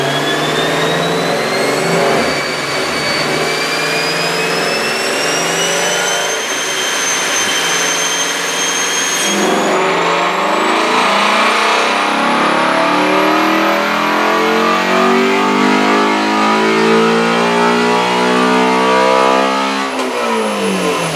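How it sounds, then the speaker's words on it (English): A 2019 Ford GT350 running a 93 performance tune on a dyno, its engine roaring loudly and climbing steadily in pitch through a long pull before easing off, heard up close with no talk. "load our 93 performance tune for the GT350, and then dyno it again and see what kind of power it makes"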